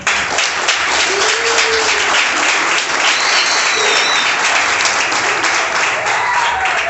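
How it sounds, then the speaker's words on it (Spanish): A church congregation applauds during a Spanish-language sermon, giving a loud, steady wash of many hands clapping that continues unbroken for the whole stretch. "¿Cuántos dan un aplauso al Señor?"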